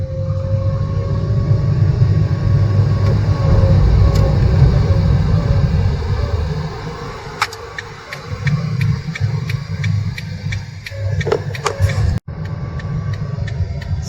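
A car's engine rumbles low and steady in first gear while a worn clutch makes it jerk, with a dip in the middle and sharp clicks and knocks toward the end, and no talk.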